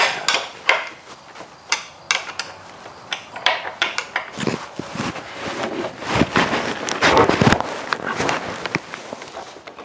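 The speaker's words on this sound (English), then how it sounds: "get this last bolt tightened up" A bolt is tightened on a rabbit cart, with a series of irregular metallic clanks, ratcheting clicks and knocks at close range.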